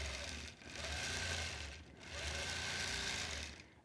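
A sewing machine stitches through a quilt in close, loud runs of rapid needle chatter over a low motor hum, with two brief pauses between the bursts.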